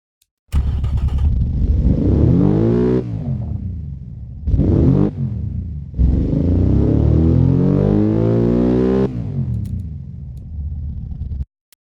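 A naturally aspirated car engine fitted with a muffler in the Automation game revs loudly and alone, climbing and dropping through several long pulls with short gaps in between.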